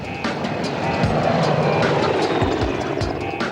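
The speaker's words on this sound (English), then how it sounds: "She's got 4 Merlins on board, the Royal Navy's favourite helicopter" A Royal Navy Merlin helicopter flies near the aircraft carrier HMS Ocean, a loud steady rotor and engine roar with rhythmic blade thumps throughout.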